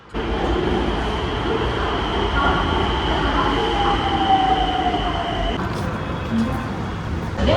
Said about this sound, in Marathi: आता इथून माझी सॉरी मेट्रोची ट्रेन येणार आहे